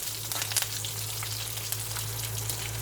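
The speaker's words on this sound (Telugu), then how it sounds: "ఇప్పుడు తాలింపు గింజలు వేసేస్తున్నాను, వేగనిస్తాను" Tempering seeds fry in cold-pressed groundnut oil with a close, steady sizzle and scattered sharp crackles and pops, no talking.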